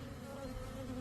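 Honeybees buzz steadily and close during the relocation of a swarm, a continuous droning hum with no voices.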